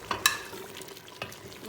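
Mashed tomatoes and added oil fry in a pan for beef korma, a soft, steady sizzle with a few brief stirring scrapes and clinks, quiet and close.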